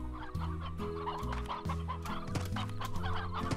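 Chickens in the video game Slime Rancher cluck in a steady run of short, repeated notes over a low tonal game backdrop, close and fairly quiet.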